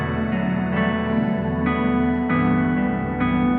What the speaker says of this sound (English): The cool thing about Alchemy is you can go back in here and manipulate the sound like this.